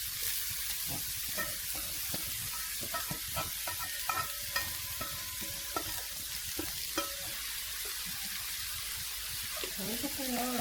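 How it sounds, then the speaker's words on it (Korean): Carrots are stir-fried in a pan for gimbap, a steady sizzle with repeated scraping and stirring strokes of a utensil, close and continuous. "그리고 다음은 당근을 볶아줄 겁니다"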